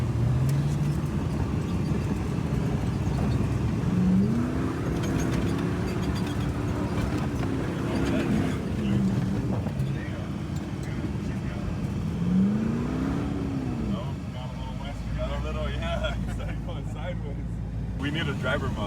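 A Jeep Grand Cherokee WJ on 40-inch tires is driven off-road, its engine revving and rising in pitch in several surges over a steady rumbling drone, with people talking throughout.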